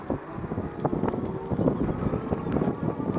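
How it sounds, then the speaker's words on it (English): Gusty wind buffets the microphone during a test ride on a 52-volt folding electric bike, a loud, uneven low rumble that surges and dips throughout. "A little bit windy today."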